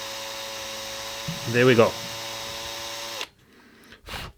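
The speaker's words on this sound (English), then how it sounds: "and just slowly letting the drill just go in." An electric drill whines steadily and close as it slowly widens a hole in a guitar pedal enclosure, then stops, with someone talking briefly over it.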